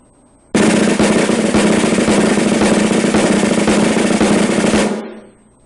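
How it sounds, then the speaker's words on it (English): A snare drum plays a seven-stroke roll very closed, a dense continuous buzz of rapid strokes lasting about four and a half seconds, loud and close, ending with a brief ring-out. "Here's how the 7-stroke roll sounds played very closed."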